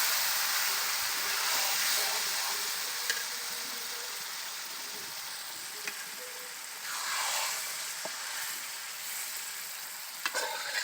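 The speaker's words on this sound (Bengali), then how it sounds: "এখন কচু শাকটা বাগার দিয়ে দেবে।" Taro leaves tempered and fried in a pan give a continuous hissing sizzle, swelling briefly in the middle, with occasional soft stirring knocks, close up and without speech.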